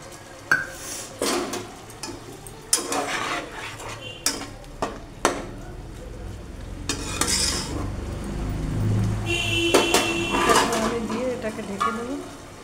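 Boiled vegetables (potato and carrot) being stirred with paste of ground white and black mustard seeds in a pan, with repeated scraping and clinks of a spatula against metal over a soft low sizzle, close and moderately loud.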